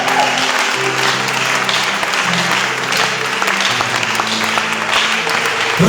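A church congregation applauds and acclaims the Lord in steady, loud clapping that lasts the whole stretch, with sustained voices and cheers running underneath.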